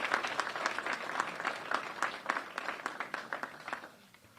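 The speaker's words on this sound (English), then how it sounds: "a great round of applause" Audience at a ribbon cutting for a new Illinois women's facility breaks into loud, sustained applause, many hands clapping together, that thins and fades toward the end.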